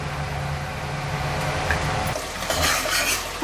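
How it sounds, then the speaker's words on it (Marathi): Ginger garlic paste sautéing in a pan for pav bhaji, a low steady frying hum with soft scraping of a spoon stirring, close and continuous. "आलं लसूण दोन चमचे टाकले आता ते जरा परतून घेऊया"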